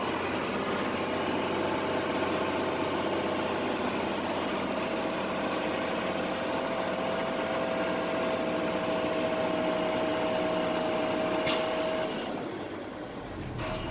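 A truck engine idles while its air brake system builds up to 120 psi, a steady close rumble with a thin rising whine, then a sharp burst of air hiss near the end.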